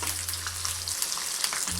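Curry leaves frying in hot oil for a masala paste, a steady close sizzle with crackling throughout, no voices.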